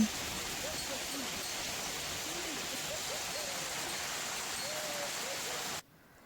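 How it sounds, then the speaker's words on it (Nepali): Steady, dense hiss of hail and rain pouring down close by, with faint warbling tones underneath, cutting off abruptly near the end. "अनि असिना पानीको आवाज पनि सुन्नु है त हजुरहरु पनि।"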